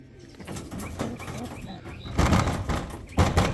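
Show homer pigeon cooing in soft, low, repeated murmurs amid other pigeon sounds, with someone talking over and around it at close range.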